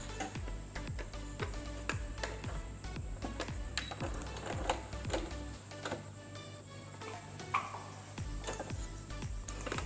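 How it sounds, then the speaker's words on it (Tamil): Sewing machine stitching a salwar pant, a fast run of light mechanical ticks and needle clatter repeating steadily throughout, fairly quiet and close with no talk. "இந்தளவுக்கு 2 இன்ச்சஸ் விட்டு இங்கேருந்து ஸ்டிச்சஸ் கீழே வரையும் நம்ம போட போகிறோம்."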